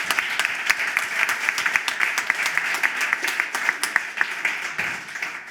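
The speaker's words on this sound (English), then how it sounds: "big round of applause again for everybody for the great presentations" Audience applauding presentations at the LocoCoCo 2023 innovation pitch event, dense sustained clapping from a crowd, close and lively, tapering slightly near the end.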